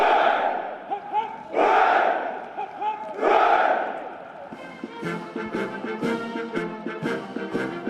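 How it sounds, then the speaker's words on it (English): A large crowd sings For He's a Jolly Good Fellow outdoors for Prince Philip at a Royal Marines ceremony, with loud, swelling choral phrases at first, then sharp percussive hits and background crowd noise. "They sang, "For He's a Jolly Good Fellow," as he waved to the crowds"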